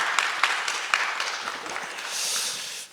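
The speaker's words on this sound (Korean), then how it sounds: "일단 박수로 환영한 다음에" Applause from a seated audience welcoming a guest author to a talk, a steady patter of many hands sustained for about three seconds before ending abruptly.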